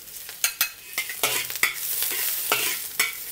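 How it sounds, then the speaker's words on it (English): Chopped garlic cloves hit a hot wok for spicy stir-fried clams with Lao Gan Ma chilli, giving a steady sizzle under sharp, repeated scrapes of the stirring utensil, close and fairly loud, with no talking. "Now we'll add in 4 cloves of garlic chopped."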